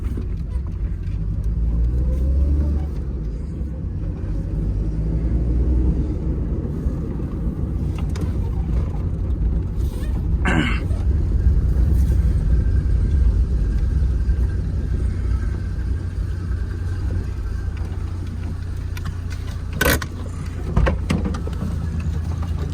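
A Suzuki Mehran fitted with rear coil-over shock springs runs on a test drive, its engine a steady low rumble heard from inside the cabin, with a few sharp knocks and clicks over the drone.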